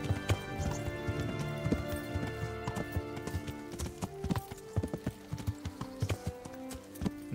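Horse hoofbeats while riding in Kingdom Come: Deliverance, a steady clip-clop rhythm of hooves at moderate volume under faint game music and ambience.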